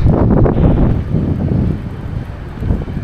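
Steady wind buffeting the microphone in a park, a loud low rumble with gusty surges throughout and no voices.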